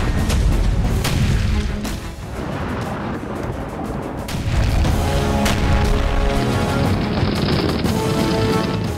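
Explosions from an attack on an Israeli Merkava tank, with dense, heavy booming blasts and rumbling bursts that run loud and continuous throughout, swelling again partway through.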